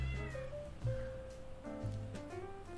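Cat meowing in the video game Hidden Cats in New York, three short separate meows spaced about a second apart, clear and close, with no voices.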